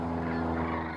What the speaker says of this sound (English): it has its mouth open making that noise you're hearing in the video clips